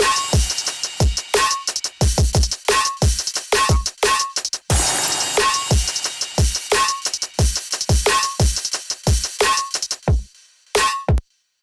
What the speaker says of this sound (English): And then, of course, you have the drums, which just sound like this.